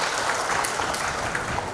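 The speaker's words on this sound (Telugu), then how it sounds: "ఒకసారి గట్టిగా చప్పట్లు కొడదాం" Audience applause at a Telugu film first-look launch event, a dense, steady clapping crowd that is loud and continuous throughout, heard alone without talk.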